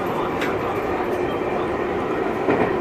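A Tokyu Oimachi Line train passes through Kita-senzoku station with a steady, loud rumble and faint rhythmic wheel clicks over the rails, heard from close by.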